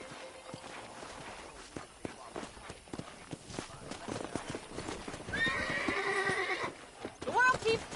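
In the video game Red Dead Redemption, horse hooves clip-clop steadily, then a wild horse neighs loudly with a long whinny, followed by snorting, over a rumbling outdoor background.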